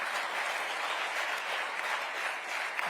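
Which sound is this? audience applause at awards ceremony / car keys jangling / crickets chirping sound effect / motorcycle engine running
audience applause at awards ceremony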